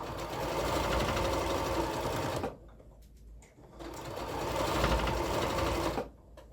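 A sewing machine running a quarter-inch seam on jelly roll quilt border fabric, two sustained close bursts of rapid stitching separated by a short pause.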